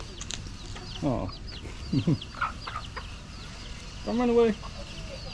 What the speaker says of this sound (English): It's a load of chickens here.